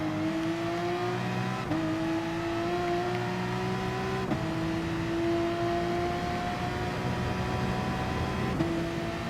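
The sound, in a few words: mid-engine Gr.3 race car engine, Gran Turismo Sport video game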